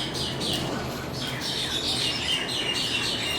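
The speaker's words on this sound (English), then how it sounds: "Just take a few nice deep breaths while these birds are having their field day." Birds on Maui chirp and tweet all around just after rain, busy overlapping calls over a soft, steady wash of background noise.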